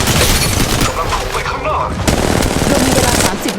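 Rapid automatic gunfire in the mobile battle royale game Apex Legends Mobile, loud and continuous bursts with booming impacts filling the whole moment.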